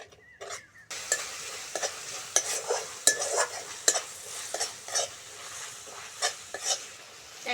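Turmeric, chili powder, cumin and coriander paste being stirred and fried for a vegetable curry, with steady sizzling broken by repeated sharp scrapes and knocks of a spoon against the pan, close and fairly quiet.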